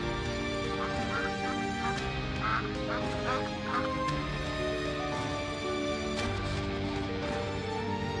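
A duck quacks in a run of short nasal calls spread over several seconds, set against a dense, steady background with clear tonal layers.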